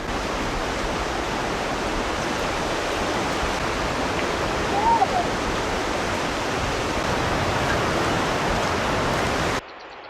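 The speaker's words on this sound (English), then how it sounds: "Look at these waterfalls." Steady roaring rush of falling water from waterfalls on the Milford Track, New Zealand, loud and continuous, filling the whole stretch before cutting off abruptly at the end.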